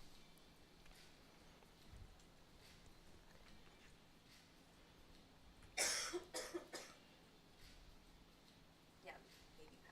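A woman coughs a few times in quick succession during a pool match, sharp close bursts rising above a quiet room hum, with a fainter cough a few seconds later.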